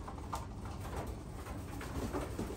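Pigeons coo softly in a loft, low murmuring calls over a dense, rumbling background.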